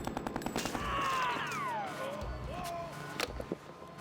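Enemy gunfire in the video game Harvester comes as several sharp, close bursts scattered among whooshing, swooping game effects, the shots fairly loud and irregular over a few seconds.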